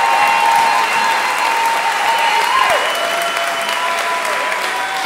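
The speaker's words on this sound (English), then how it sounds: "And the crowd goes wild." Loud, steady crowd noise with applause and cheering holds at an even level for the whole stretch, with a brief tonal sweep near the middle.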